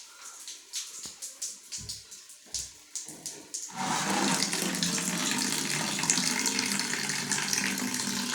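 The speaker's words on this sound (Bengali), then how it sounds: "এখান থেকে বাতাসের মাধ্যমে পানিটা উপরে চলে যাচ্ছে।" An electronic pressure machine drives water up a pipe: a steady, loud rushing flow that begins suddenly after a few seconds of scattered splashes and drips and then runs on evenly.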